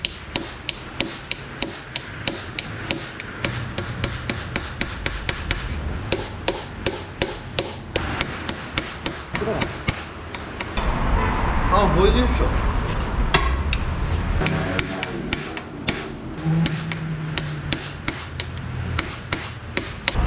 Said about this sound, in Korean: 망치 다 쳐버려